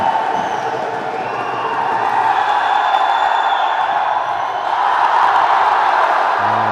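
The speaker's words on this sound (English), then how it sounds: "Crowd lifting the home team." A volleyball arena crowd roars steadily for the home side at the AVC Cup men's match between Vietnam and South Korea, a loud, sustained wash of cheering and whooping with faint whistles and a commentator's voice underneath.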